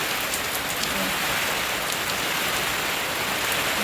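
Heavy rain falls steadily outdoors during a nighttime power outage, a dense, unbroken wash of drops pattering on surfaces, close and loud with no voices.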